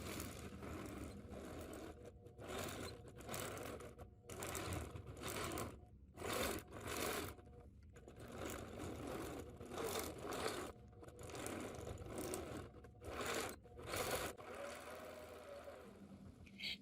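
A sewing machine stitches in the ditch between quilt blocks in repeated bursts of rapid mechanical chatter, broken by short pauses, close and moderately quiet.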